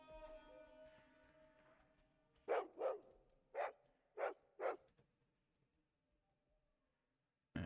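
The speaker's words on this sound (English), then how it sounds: "I also hear dog." A dog in the video game Fallout 2 barks five times in a quick burst, loud and near, over quiet background game ambience that then fades toward silence.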